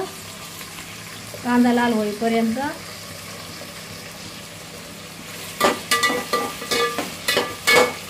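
Onions frying in a pan in a small home kitchen, giving a soft steady sizzle under a woman's speech, followed by a run of clattering stirring sounds near the end.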